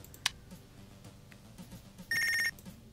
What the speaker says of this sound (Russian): О, телефон.